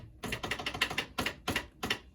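Fingers type on the keyboard of a Commodore PET computer, producing a quick run of clacking keystrokes followed by a few separated key presses, faint and close with no talk.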